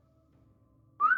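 A person gives one short, clear whistle after near silence, a bright, rising tone that is loud and close and stands alone.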